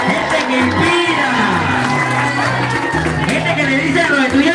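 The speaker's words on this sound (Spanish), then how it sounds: "fuerte el aplauso para los docentes" A crowd cheering and applauding for teachers at a gathering, loud whoops and shouts rising together over voices and background music throughout.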